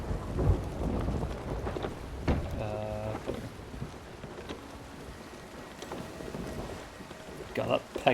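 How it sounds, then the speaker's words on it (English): A thunderstorm at sea in the pirate game Sea of Thieves: rain pours steadily while thunder rumbles and sharp cracks break through, with a brief bit of talk under the storm. "Let's see if we can get there before the storm."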